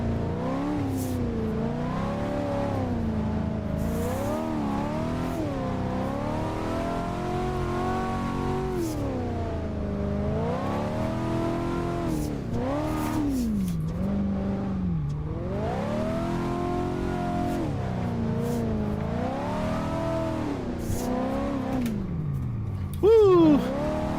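A modded 1988 Monte Carlo drifts in Assetto Corsa, its V8 engine revving continuously up and down in wavering surges as it slides through corners, with a driver talking over the engine at times.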